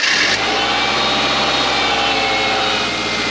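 A car with about 200,000 miles on it, air conditioning off, starts close by with a short cranking burst and then settles into a steady, rumbling idle.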